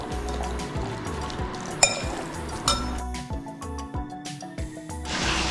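Masala being stirred into prawns for chemmeen biriyani: a spoon scrapes and knocks against the bowl up close, with irregular clinks and one sharper tap amid the wet mixing.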